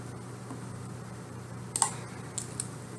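A few sharp computer mouse clicks, a close pair followed by two more spaced apart, quiet against a faint steady room hum.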